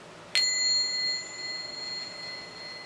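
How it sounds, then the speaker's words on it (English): A small bell is struck once to clear a space and rings out clearly, its bright tone lingering and slowly fading in a quiet room. "So, here we gonna clear our space with our bell."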